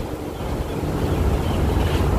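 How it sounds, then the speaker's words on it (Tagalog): Strong wind blowing outdoors beside water, a steady broadband rush with low gusty rumble that builds slightly and holds throughout, close and loud with no voices. "lakas ng hangin"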